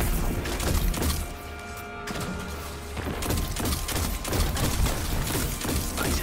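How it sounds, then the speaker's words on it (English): Grenade launcher fire in the shooter game Destiny 2, a busy run of close, heavy thumps and blasts with crackling debris that keeps going across the whole stretch, with no talking over it. "I finally hit it with my grenade launcher."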